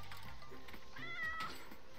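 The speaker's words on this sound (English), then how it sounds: "Get away from me, kitty." A cat meows in the video game Get Packed, a short, clear in-game call over quiet background game sound with no talk.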